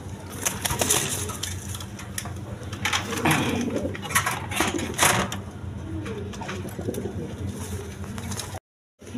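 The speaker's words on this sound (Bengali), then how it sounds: "দর্শকবৃন্দ এইখানে এক পেয়ার ফ্যান্টাল কবুতর আছে" A pair of fantail pigeons coo repeatedly at close range in a bird market, soft throaty calls rising and falling with a few brief wing flutters and background chatter.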